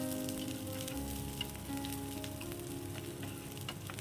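Onion and garlic frying in a pan for mustard greens, a continuous even sizzle with soft crackles, close and steady throughout.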